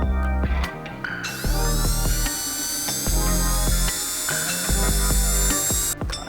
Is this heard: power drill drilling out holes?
yes